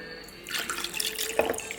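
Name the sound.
water poured into Paul John Bold single malt whisky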